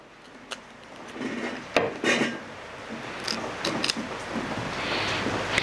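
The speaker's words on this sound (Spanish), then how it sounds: "Cebolla, aquí nada más le voy a cortar un pedacito que ocupo para asarla." A knife slices through a piece of onion meant for roasting, giving scattered close rasping cuts and sharp taps on a board over quiet kitchen background noise.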